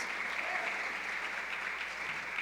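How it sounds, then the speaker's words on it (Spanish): A church conference congregation applauds, the clapping steady, full and sustained from start to finish without breaks. "Dale un aplauso al Señor."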